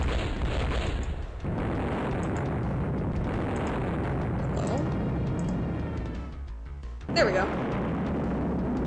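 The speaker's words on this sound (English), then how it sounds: "Little stock explosion as a treat" A stock explosion effect in the video game The Lords Of Tantrazz rumbles as a sustained low roar and crackle, then cuts off before a sharp burst near the end, with a person speaking briefly over it.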